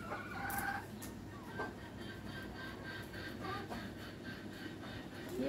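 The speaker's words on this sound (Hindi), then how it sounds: "और देखिए मेरी मुर्गी सबको भी देखिए, कड़कनाथ है, देसी मिक्स है दोनों।" Kadaknath and desi mix chickens cluck softly at a distance, with a rooster crowing early on and scattered low clucks following against a quiet outdoor background.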